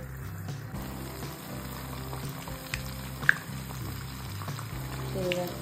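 Oil crackles and sizzles softly as food fries, with a low hum underneath and an occasional sharp pop.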